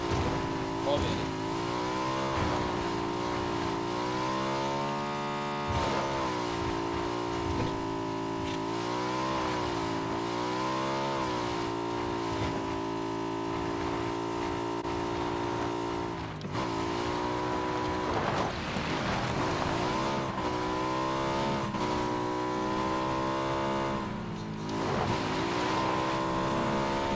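A car engine revs steadily and loudly through a racing video game, the pitch rising and dipping with gear changes, while players talk over it.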